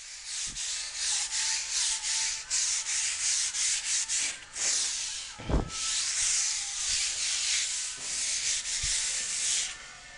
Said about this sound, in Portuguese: Agora vamos bater a lixinha fina, né? Uma lixa 150 aí.